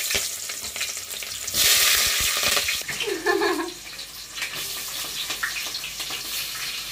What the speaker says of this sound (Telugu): ఆయిల్ అయితే బాగా వేడైంది కదా, పచ్చిమిర్చి ఉల్లిపాయలు వేసుకున్నాం